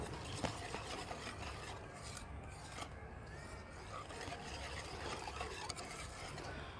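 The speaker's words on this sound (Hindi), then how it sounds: "ये सारी चीज़ों को अच्छी तरह मिक्स कर लेना है।" A milk powder mixture for milk barfi stirred and mixed in a pot, making a continuous close rasping, scraping rub at low level with no talking.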